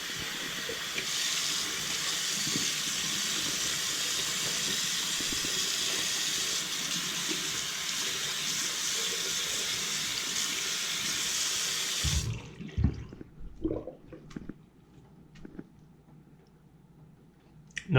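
Tap water runs steadily into a sink for about twelve seconds while Invisalign aligners are rinsed, then the flow stops, leaving a few small clicks and handling sounds.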